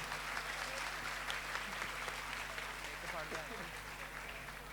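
Applause welcoming a bishop during a Holy Mass at an annual pilgrimage: a dense, continuous wash of clapping from a crowd, steady and unbroken, over a low background hum.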